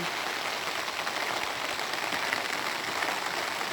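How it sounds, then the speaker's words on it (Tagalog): Rain falling steadily during a corn harvest, an even, dense hiss of drops on surfaces that holds at a constant level throughout with no voices. "Hindi pa rin napila ang ulan."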